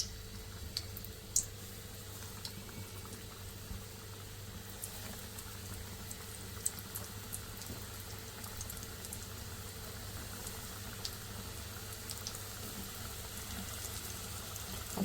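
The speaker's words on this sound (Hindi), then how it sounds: "तो इसी मैंने डाल दिया है ऑयल में, हल्के ऑयल में हम डाल देंगे फ़िश" Breaded finger fish shallow-fries in a little oil with a continuous soft sizzle and scattered pops and crackles, steady and close, with no talking.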